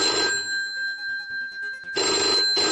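A telephone rings as a call is placed, two loud electronic ring bursts with a steady tone between and a third burst starting at the end, close and clear with no talk.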